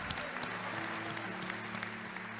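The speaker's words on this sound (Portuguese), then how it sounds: "Aplaude outra vez, diga muito obrigado." A church congregation applauds in a brief, steady burst of clapping, close and moderately loud, with a few voices faintly underneath.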